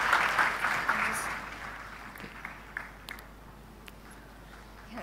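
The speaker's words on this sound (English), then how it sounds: "Round of applause, please." An audience at a tech community talk applauds the guest speaker, with fairly loud clapping at first that thins into scattered claps and fades toward the end.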